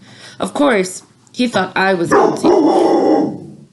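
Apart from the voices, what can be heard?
dog barking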